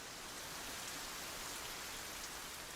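Rain falling steadily in an English garden at Longmeadow, a dense, even hiss of drops on surfaces without pauses or rhythm, soft in level and heard on its own.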